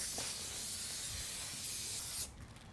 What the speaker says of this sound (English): This is a releasing agent. It comes in a can.